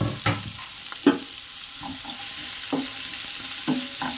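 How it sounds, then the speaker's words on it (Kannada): Two medium onions frying in a pan for a village-style drumstick-leaf saaru, a soft ongoing sizzle broken by several sharp scrapes and clinks of a spatula stirring at irregular intervals. "ಈಗ ಈರುಳ್ಳಿ ಹಾಕ್ತಾ ಇದ್ದೀನಲ್ಲ, ಈರುಳ್ಳಿ ಎಲ್ಲ ಫ್ರೈ ಮಾಡ್ಕೋಬೇಕು"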